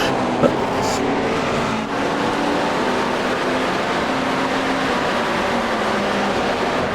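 GT3 race cars launching from the start at the Hungaroring in iRacing: a continuous, loud engine roar with layered droning tones, sustained and close for the whole stretch.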